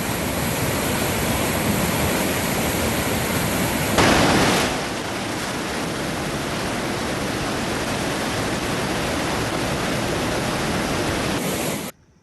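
Water released through five dam gates rushes down the Godavari River, a loud, steady roar of broadband noise with a brief surge partway through, then cuts off abruptly near the end.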